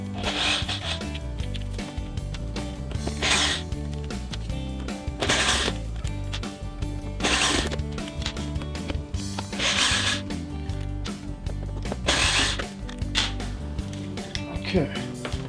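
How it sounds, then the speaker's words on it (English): Six screws are backed out of a dishwasher's front panel with a screwdriver, giving a series of short whirring bursts about every two seconds against a steady low hum. "What we're going to do is remove 1, 2, 3, 4, 5, 6 screws"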